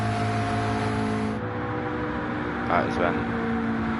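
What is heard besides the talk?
race car leaving pit lane in Gran Turismo video game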